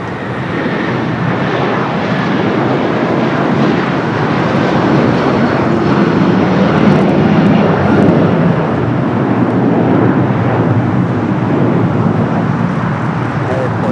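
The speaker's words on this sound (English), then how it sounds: "We got a United 757-300 now taking off" A 24-year-old United Boeing 757-300 jet takes off from runway 25 right at LAX, bound for Honolulu, its engines a steady, loud broadband roar across the whole stretch with faint traffic noise mixed in.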